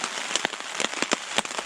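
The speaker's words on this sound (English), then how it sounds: "I guess I can only hope that the rain lets up by morning" Steady rain patters on a surface at a campsite during a canoe camping trip on a river, with close, distinct drops ticking irregularly over a soft continuous hiss.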